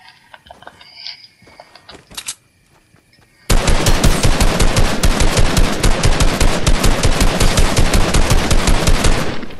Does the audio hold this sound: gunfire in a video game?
yes